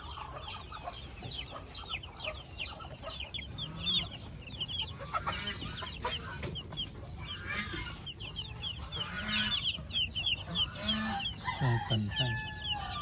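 A flock of broiler chickens clucking and squawking continuously at close range, with scattered louder calls and background chatter from people nearby.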